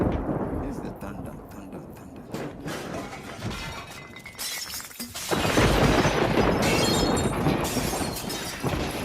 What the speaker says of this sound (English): This is the thunder.